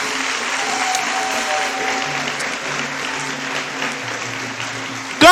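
Church congregation applauding during a sermon, a sustained patter of clapping with organ or keyboard tones sounding beneath, ending with a sudden louder burst.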